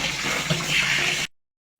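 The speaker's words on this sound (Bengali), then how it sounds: "আমি একটু ঠান্ডা জলটা এটা ধুয়ে নেব।" Cold tap water gushes steadily over boiled chow mein noodles for just over a second, close and fairly loud, then cuts off abruptly into silence.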